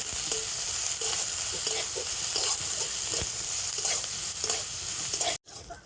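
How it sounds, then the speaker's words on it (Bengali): Chopped onion and crushed garlic fry in a pan for a fish curry, giving a loud, dense sizzle with rhythmic stirring scrapes throughout, close by, before cutting off abruptly near the end. "এবারে সব কিছু একটুখানি ভেজে নেব"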